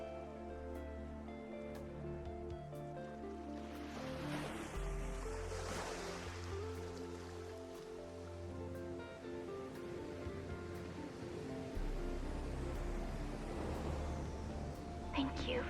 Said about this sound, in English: I need a moment to enjoy my ocean